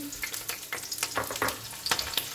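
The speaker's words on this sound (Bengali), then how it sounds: "তেলের মধ্যে পেঁয়াজ কুচানো, কাঁচা লঙ্কা চিরা একসঙ্গে দিয়ে দেবো।" Chopped onion and slit green chili frying in hot oil for a potato and long bean stir-fry, a close crackling sizzle punctuated by a few sharp scraping stirs.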